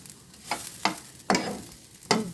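Gobinda Bhog rice frying in ghee, a steady sizzle broken by four or five scraping stirs, close and alone without voices.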